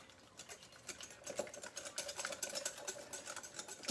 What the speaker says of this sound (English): So basically, we're just going to whisk this together.